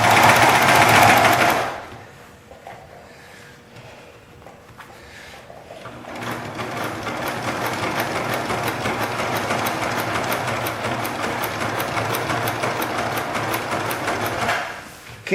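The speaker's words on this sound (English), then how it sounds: "I'll finish sewing this all the way around and then I'll show you how I finish it off." Sewing machine stitching vinyl upholstery for a 1959 GMC Apache Fleetside, a steady mechanical whir with rapid needle ticking running for about nine seconds after a quiet pause and a brief burst of handling noise.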